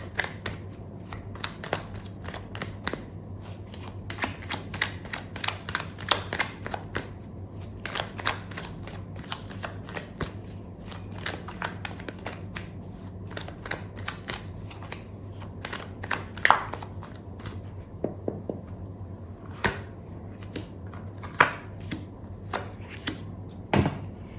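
Tarot cards shuffled continuously in a long run of crisp, close slaps and riffles over a low steady hum, with no voices.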